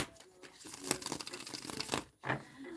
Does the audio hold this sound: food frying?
no